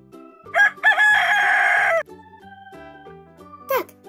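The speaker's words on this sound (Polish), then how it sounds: "To jest kogut." A rooster crows loudly, one long drawn-out cock-a-doodle-doo call, over a gentle tune that continues afterward.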